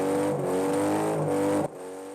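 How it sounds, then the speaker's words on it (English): A homemade scrapheap-built trike engine runs at a steady, loud, buzzy idle with strong harmonic tones, then drops abruptly in level near the end. "the bike boys have got that engine sounding much better than before"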